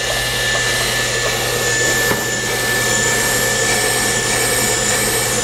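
A bench brake lathe runs at a steady, loud mechanical drone with a constant high whine. It holds evenly throughout, with one brief tick partway through and no voices.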